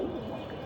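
Cooing from a pet khaki male pigeon, a gift from a friend, a low soft coo repeated through a short stretch with steady background hum and no talking.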